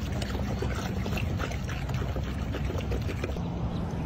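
Chlorine shock poured into pool water makes a steady, close splashing rush that lasts the whole few seconds, with no talking.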